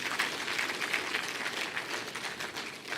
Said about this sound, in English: Please give her a better round of applause.